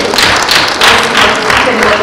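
Audience applause at a gathering thanking a teacher, a brief burst of loud clapping lasting about two seconds, mixed with a voice speaking.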